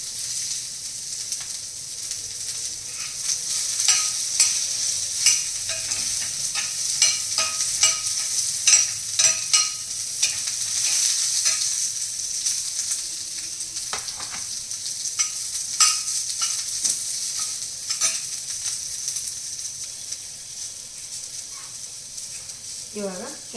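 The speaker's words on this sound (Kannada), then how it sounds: "ಇದನ್ನು ಈಗ ಮಿಕ್ಸ್ ಕೊಡ್ತಾ ಈರುಳ್ಳಿ ಕರಿಬೇವು ಹಾಕೋಣ." Onion and curry leaves frying and being stirred in a pan for green gram gojju, a constant sizzle with repeated scraping and tapping of a spoon against the pan, nearby and continuous.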